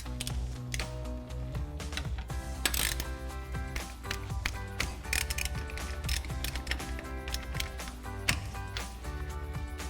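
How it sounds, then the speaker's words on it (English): An 18mm socket on a ratchet tightens brake bolts on a 2014-2018 Chevrolet Silverado or GMC Sierra 1500 during a PowerStop Z36 brake kit install, with rapid repeated clicking over a loud, steady mechanical drone. "Now we'll go ahead and tighten these down using our 18mm socket."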